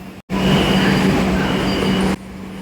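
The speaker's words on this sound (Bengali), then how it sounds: "এবার আমরা এই লাইনে ধরবো অর্থাৎ এক নম্বর প্ল্যাটফর্ম থেকে আমরা মেট্রো ধরবো" An underground metro train on Kolkata's Howrah–Sealdah line runs through a tunnel with a loud, steady roar and a low humming drone, broken by one brief dropout near the start and easing slightly at the end.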